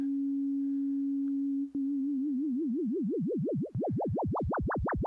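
A synthesizer tone modulated by a triangle-wave LFO: a steady pure pitch holds, then starts wobbling up and down, the sweeps growing wider and faster until it zigzags strongly, with no talk.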